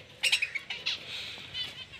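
Sparrows squabbling and parrots squawking, a few sharp high chirps and squawks in quick bursts, fairly near, with a faint bird chatter continuing between them.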